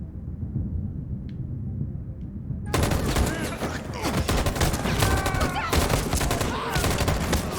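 Rapid video-game gunfire from Detroit: Become Human, a dense loud fusillade of shots bursting in after a quieter stretch and continuing steadily to the end, with rumbling game sound beneath.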